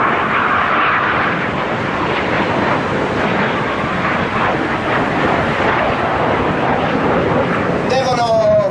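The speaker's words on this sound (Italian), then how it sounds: "questa è la voce dell'MB 339 delle frecce tricolore" An Aermacchi MB-339 jet of the Frecce Tricolori aerobatic team roars past at an air show, a loud steady engine rush with wind buffeting, while an announcer talks over a public address system.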